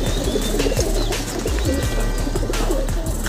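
Racing pigeons coo in soft, repeated low calls over a steady background hum, with a few faint chirps mixed in.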